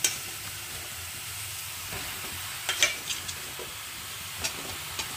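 Cauliflower and potato pieces with green chillies frying in hot oil, a soft, continuous sizzle broken by a few scraping stirs and light clatters.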